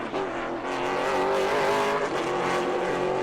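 Pro late model race car on the New Smyrna track, likely the 00 car, its engine roaring loud and steady with a strong harmonic whine that rises and holds throughout, close and continuous.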